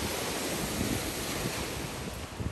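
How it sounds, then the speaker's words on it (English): Ocean waves breaking on a shore beside a bench, a steady broad wash of surf mixed with wind noise on the microphone, continuous and fairly loud with no voices. "the beautiful sound of the waves."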